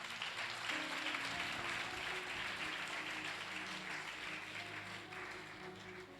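Sustained applause from a church congregation during a sermon on Jesus Christ, a dense steady wash of clapping that stays loud and even throughout without letting up.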